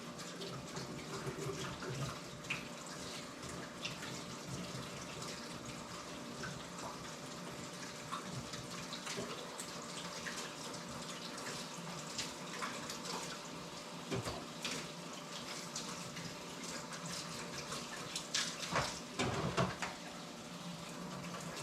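Vegetables get rinsed under a running kitchen faucet, a steady quiet stream of water with occasional splashes and clatter near the end, no talking.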